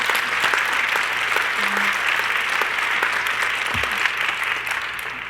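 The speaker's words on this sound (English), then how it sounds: "If we can have a round of applause for our wonderful panel." Steady, loud applause for a forum panel from a room full of people, dense clapping that holds for several seconds before starting to thin out.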